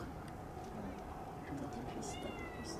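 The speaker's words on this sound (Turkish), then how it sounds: "Aha kedi geldi." A cat meows a few times toward the end, its short, clear cries rising over a steady, noisy indoor background.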